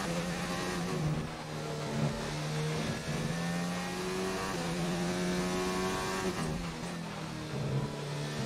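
Formula 1 car engine in the racing game F1 2019, leaving the pit box: a high, sustained engine whine that rises and falls with gear changes and throttle, loud and continuous with no talking.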